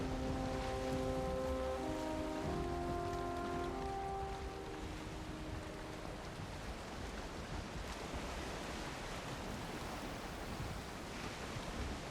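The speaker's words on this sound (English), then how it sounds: "Big swell of a wave there." Ocean waves in the survival game Valheim wash continuously as a loud, steady surf roar, with sustained tonal music notes layered over the first several seconds before the water noise continues alone.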